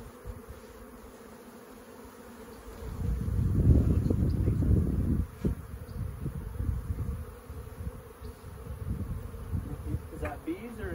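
Bees hum around a hive, a steady buzzing that swells louder for a few seconds midway, close to the microphone, with some wind buffeting.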